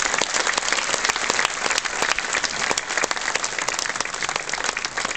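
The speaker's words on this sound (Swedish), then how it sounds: "ge våra deltagare en extra stor varm applåd" Loud, sustained applause from a crowd at the 2009 Kalle Anka Cup opening ceremony in Sweden, dense and unbroken from start to finish.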